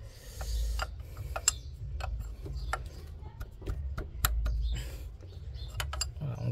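A wrench loosens the injector fuel pipe fitting on a Hyundai diesel engine, giving a series of sharp metallic clicks and ticks over a low background rumble, close and alone.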